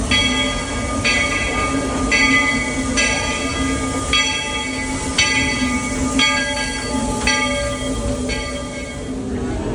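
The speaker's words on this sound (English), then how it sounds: "So here we go, the train is back." A Walt Disney World Railroad train rumbles and rattles along the tracks at close range, with a steady mechanical drone and repeated bright, ringing metallic tones.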